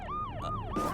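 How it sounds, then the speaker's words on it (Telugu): A police siren wails outdoors in quick rising and falling sweeps, about three cycles in a second, loud and clear with no voices over it. "ఎక్కడో పోలీస్ హారన్ సౌండ్ వస్తుంది"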